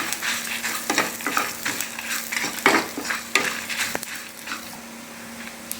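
Cumin, fenugreek, coriander seeds, dried red chilies and toor dal dry roasting in a pan for Mysore rasam, with a soft continuous rustle and scattered scraping stirs, close and moderately loud.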